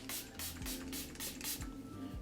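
Lush rose lavender toner mist is sprayed onto a face in a quick series of about six short, soft spritzes, evenly spaced and close, over a low background hum.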